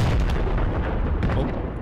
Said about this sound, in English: an explosion looks like it went off a little early.